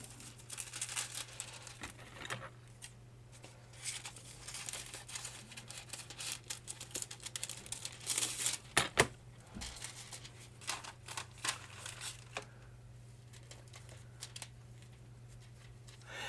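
Laminator foil is handled and crinkled in soft, irregular rustles and crackles over a steady low hum, faint and close, with a few sharper crisp bursts midway.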